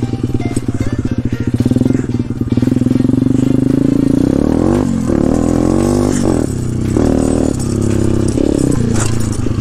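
A pit bike engine revs hard during riding, staying loud and close with rising and falling pitch as gears change and the throttle is worked, rough and buzzy for the whole stretch.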